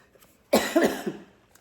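A single loud, close cough from a person, lasting about a second and a half with a short rough tail, set against quiet room silence.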